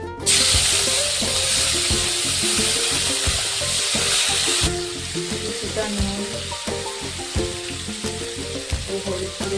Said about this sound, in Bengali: ব্রকলিগুলো হালকা ভাজা হয়ে গেছে